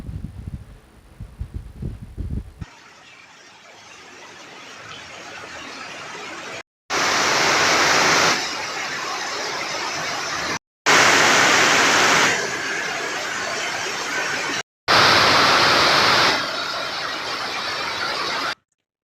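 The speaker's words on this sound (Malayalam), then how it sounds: "റോഡരികിലൂടെ വെള്ളം കുത്തിയൊലിച്ചു" Summer rain in the Kumily area pours down with water rushing along the roadside, heard as a steady, loud hiss in several cut segments after a short, quieter opening.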